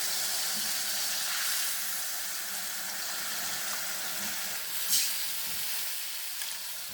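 Soy sauce hits browned garlic being sautéed in a pan, giving a steady, moderate sizzle with soft bubbling and a brief sharper crackle midway, with no voices.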